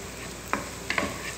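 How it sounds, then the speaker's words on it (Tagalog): Egg omelette frying in a pan as green onion leaves are added and stirred in, a steady sizzle with a few sharp scrapes and clinks of the utensil, close and alone without talk. "ilalagay na natin ang dahon ng sibuyas"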